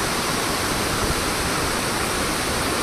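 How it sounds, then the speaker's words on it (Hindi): A waterfall in the hills below Kangra gives off a steady, dense roar of rushing water, broadband and unbroken from start to finish, with no voices over it. "एक झरना उधर है"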